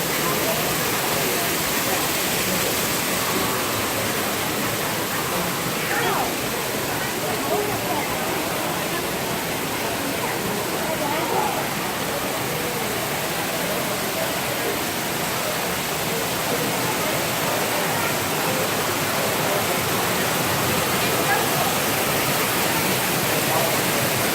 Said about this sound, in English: Waterfall, do you see waterfall?